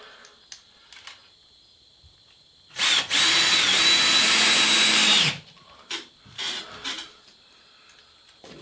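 A power drill drives screws into a rafter while drywall is fastened overhead. It gives one loud, close whirring burst of about two and a half seconds, followed by a few short, quieter taps and blips.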